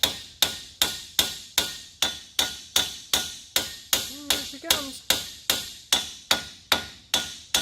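A hammer strikes the metal strut of a 2008-2011 Ford Focus in a steady rhythm, about two sharp, ringing taps per second, close and loud, with a brief voice partway through.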